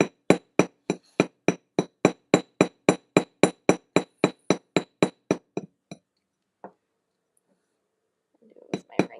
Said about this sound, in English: I'm just going to slowly tap my rivet into a mushroom.